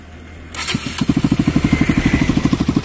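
A modified motorcycle engine cranks and catches, then settles into a loud, close, rapid thumping idle from its exhaust, with even pulses and a slight crackle and no talk.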